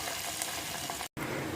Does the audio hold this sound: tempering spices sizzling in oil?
yes